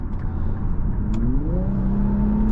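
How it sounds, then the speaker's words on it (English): Infiniti Q50 Red Sport 400 AWD, a 2021 model, accelerating hard from the driver's seat, its engine note climbing steadily in pitch over a constant loud road and drivetrain roar. "you just put your foot down in this Red Sport and it'll pick up speed quick"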